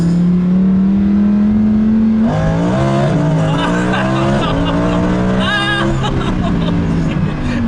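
A 2015 Lamborghini Huracan LP 610-4 takes corners hard, its engine droning loudly and rising and falling in pitch with shifts, while the tires squeal and voices chatter inside the car.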